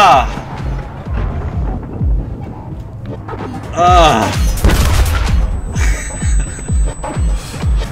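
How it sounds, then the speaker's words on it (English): Loud booming mortar impacts and explosive thuds in the video game CRSED: F.O.A.D., heavy blasts landing close amid gunfire, with someone talking over the chaos. "that was a fucking mortar landing there"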